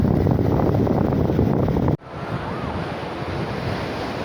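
Sea waves break on Agadir beach in Morocco during fishing, a steady loud surf roar mixed with wind noise on the microphone. The sound cuts out abruptly at the midpoint, then the surf swells back in and continues.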